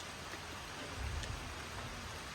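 Rain falling steadily in a forest, a soft, even hiss of drops that is faint and continuous, with a slightly heavier patter midway and no voices.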